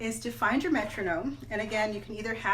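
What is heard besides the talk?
No distinct noise like a dog, phone or traffic.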